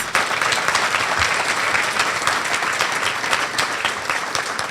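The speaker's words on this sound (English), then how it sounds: "Please give her another round of applause." Steady, full applause from a seated audience at a leadership awards ceremony, many hands clapping at once in a close, even roar that holds for several seconds.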